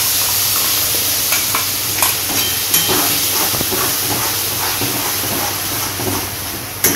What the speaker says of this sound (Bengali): এখন এটার মধ্যে এই যে মশলা পেস্ট করে রেখেছি দিয়ে দেবো